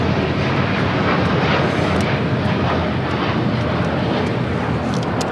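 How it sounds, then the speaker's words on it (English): American Airlines Boeing 787-8 Dreamliner taking off on the south side of LAX, a loud, dense and continuous jet engine rumble, close and steady throughout with no talk. "American Dreamliner taking off here on the south side"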